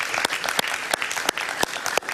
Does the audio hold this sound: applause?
yes